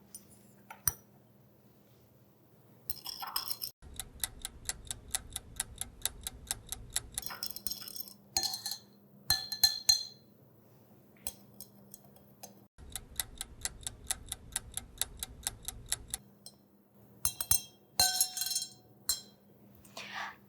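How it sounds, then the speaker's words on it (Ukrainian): A clock or timer ticks steadily and evenly over a quiet room tone, with glass clinks and bursts of spoon stirring water in two drinking glasses, where sugar and sand are being dissolved, breaking in at intervals. "Можна навіть поставити таймер на одну хвилину"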